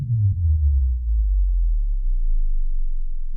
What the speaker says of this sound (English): you can hear the low frequency, the sub bass here